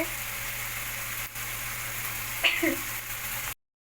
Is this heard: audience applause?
no